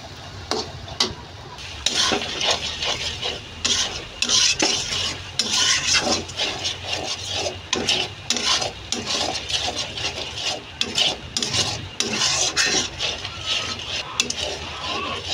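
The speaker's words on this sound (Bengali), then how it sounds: "সরিষা ভালো মতো ভাজা হয়ে গেছে" Mustard seeds sizzle and crackle in hot oil, with irregular popping bursts and the scrape of stirring, close and continuous.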